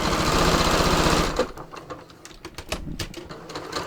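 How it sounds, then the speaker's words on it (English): A sewing machine stitches a seam in Seraflex thread with a long stitch length, giving a fast, even mechanical whirr that runs loud and close for just over a second, then stops and leaves scattered handling clicks. "So I'm just going to stitch this, and I'm going to use a longer stitch length"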